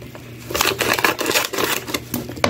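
Scissors cut the top off a thick, stiff aquarium filter pad, a series of close, crisp snips and crunches in an irregular rhythm with no talking.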